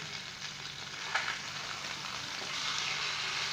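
Chicken pieces sizzle steadily in a hot wok for a jalfrezi, a continuous close frying hiss with a brief louder crackle partway through and no talking.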